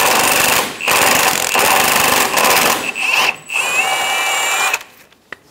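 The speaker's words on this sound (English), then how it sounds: "Using a 19 millimeter socket, remove the front bolt for the control arm bushing." An impact wrench on a 19 mm socket loosening the front control arm bushing bolt on a 2003–2007 Honda Accord, loud rapid hammering bursts with short pauses, ending in a spin-down and a faint click.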